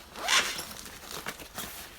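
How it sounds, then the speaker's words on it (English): A zipper on the back pocket of a bag is pulled open in one quick rasping stroke, followed by softer rustling handling sounds, close and clear. "Let's check the back, a zipper pocket."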